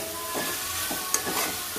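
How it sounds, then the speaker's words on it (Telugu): Chicken liver fry being stirred in a pan, with a steady sizzle and repeated scraping strokes of a spoon, plus one sharp clink midway, close and clear with no voices. "ఇక చికెన్ లివర్ని అయితే కలుపుతుంది రాని"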